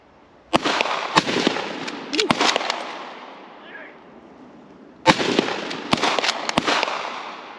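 Rifle shots from a faux Jungle Carbine fired outdoors, two loud sharp bursts of several cracks each with echoing decay, separated by a quiet pause.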